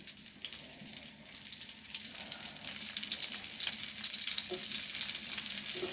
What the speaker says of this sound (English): Let's put a little bit of these onions in here to saute.